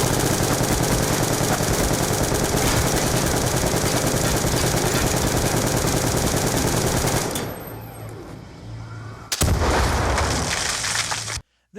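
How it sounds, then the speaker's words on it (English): Loud, continuous automatic gunfire in the action game Oni, a relentless rapid rattle with booming impacts for about seven seconds, then a short lull before another harsh burst cuts off abruptly. "Just stand still and keep on shooting."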